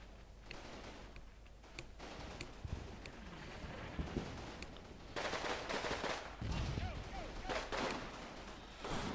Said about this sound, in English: I put a machine gun to fire at that.